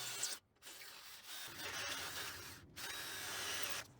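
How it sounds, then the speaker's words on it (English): A power drill whirs in bursts, pausing briefly between runs, with a gritty high-pitched grind as the bit drills fixing holes through a steel plate. "And I drill out those fixing holes"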